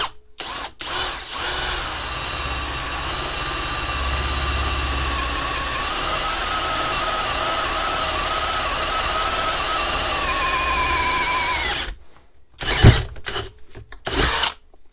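A Parkside Performance 12V cordless drill bores a roughly 10 mm hole, running steadily with a loud, sustained whine for about eleven seconds before stopping, followed by brief handling knocks.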